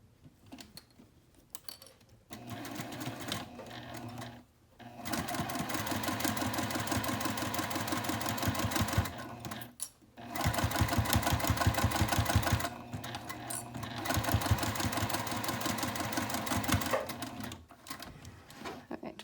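Sewing machine top stitching fabric for a sling, running in long steady whirring bursts separated by short pauses, close and clear, with a few faint voice sounds between runs.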